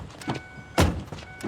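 A car's doors open with short mechanical whirs and a louder thunk partway through, close by and brief, with no talking.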